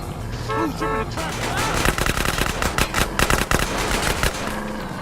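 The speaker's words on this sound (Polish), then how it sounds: "No i robimy drive-by." Rapid drive-by gunfire in GTA San Andreas, a dense burst of loud shots for several seconds mixed with game engine and horn-like tones, with a voice talking over the start.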